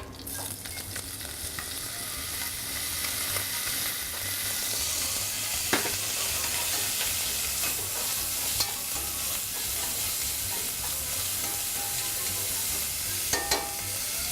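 Pancetta crisping in an oiled pan for coq au vin sizzles in a dense, continuous hiss, close and steady, broken by a few faint clicks and utensil taps.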